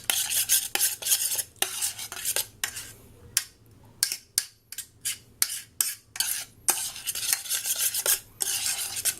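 A spoon scrapes and clinks rhythmically around a bowl as cinnamon is mixed into apple pie filling, with a series of close, bright rasping strokes and short pauses.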